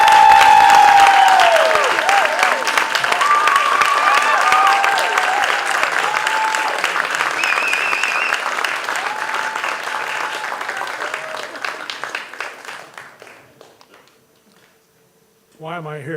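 An awards-ceremony audience at Miami Web Fest 2018 applauds a lifetime achievement honoree, with loud sustained clapping over tonal music that gradually thins and fades almost to silence before a brief new sound at the very end.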